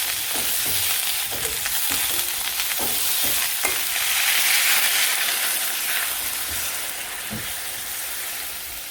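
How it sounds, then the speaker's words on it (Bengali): Curry sautéed in a pan gives a constant loud sizzle, broken by repeated light scrapes and clinks of a spoon stirring, close and with no one talking. "এটাকে এই যে ভালো করে কষিয়ে নিচ্ছি"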